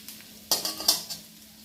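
Crispy taro root (colocasia) pieces frying in a pan and being turned over, a brief burst of sizzling with a few metallic scrapes and clinks of the spatula, close and alone.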